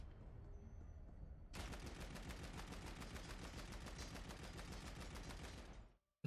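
Gunfire in the game The Ascent, a sudden loud continuous stream of rapid automatic shots that runs for several seconds and then cuts off abruptly.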